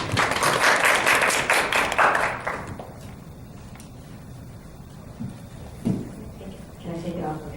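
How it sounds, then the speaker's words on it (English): Audience applause after a speaker is introduced at a medical presentation, loud dense clapping for about two seconds, then fading into scattered claps and room noise with a few brief voices near the end. "So let's give a warm round of applause"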